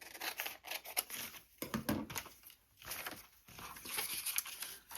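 Scissors trimming scrapbook paper, a close series of crisp snipping and rustling cuts with short pauses between strokes, soft and without speech.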